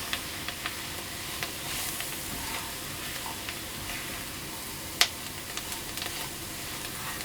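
Flour for a chicken and vegetable pie filling sizzles softly in a pan as it cooks, a steady low frying hiss broken by a few faint stirring scrapes and one sharper tick.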